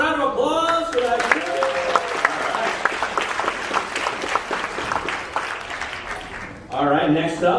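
A hall full of people clapping at a humanities symposium: a voice speaks briefly, then sustained, even applause from the audience takes over before talking resumes right at the close.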